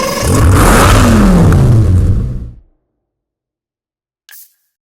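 Aston Martin DBS Volante exhaust in the racing game Need for Speed Hot Pursuit, a loud close rev that surges and holds for about two seconds, then cuts off to silence, followed by a short faint whoosh.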